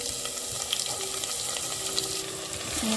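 Onions go into hot oil in a pan with ginger, green chili, cumin and asafoetida for matar pulao. A steady, dense hiss of frying runs throughout, close and loud, with no voices.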